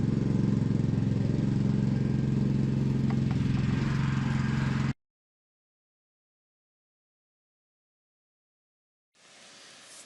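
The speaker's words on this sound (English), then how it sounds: "This is the Klassen hollow tine aerator" Steady droning engine of a Klassen hollow tine lawn aerator running on a lawn, loud and close for about five seconds, then silence and a quieter return of the motor.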